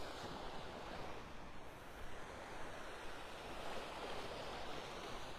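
Ocean surf rolls steadily onto a beach in North Naples, Florida, a continuous broad wash of breaking waves mixed with wind buffeting the microphone, with no voices.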